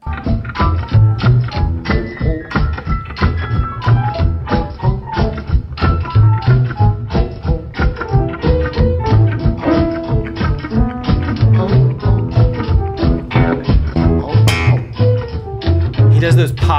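An electric guitar plays a blues riff with sharp percussive string pops and thumps repeating in a steady groove, loud and close with no speech.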